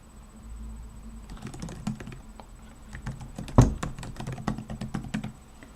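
Close, light, fast computer-keyboard typing as an email address is entered, irregular taps with one heavier thunk midway, no speech.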